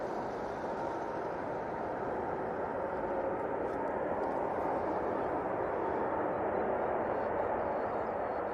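An Emirates airliner lands on runway 05 at Manchester Airport with a steady, distant broadband roar of engines and airflow that swells slightly, with no voices.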